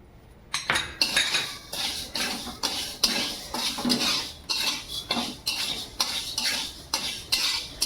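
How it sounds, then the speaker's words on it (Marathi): Whole spices for Agri Koli masala dry-roast in a pan, stirred with a metal spoon that scrapes and clinks against the pan in a steady repeating rhythm, close and clear with no talking. "सगळे हे खडे मसाले व्यवस्थित भाजून घ्यायचे."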